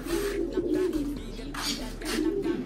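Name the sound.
pigeons cooing in their cage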